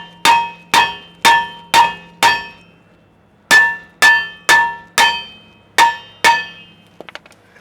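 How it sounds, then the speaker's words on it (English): A hammer strikes a brake rotor on a GM truck rear axle in ringing metallic clangs, five evenly spaced blows, a pause, then six more, each sharp, loud and decaying with a bell-like ring, close up and with no talking. "First I'm going to try and knock it loose from the axle with a hammer."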